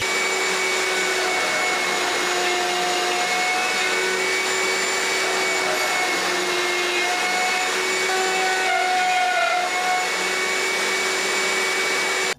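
A power saw runs steadily while cutting wooden lamp posts to length in a woodworking shop, a loud continuous motor whine with a slight shift near the end and no talking.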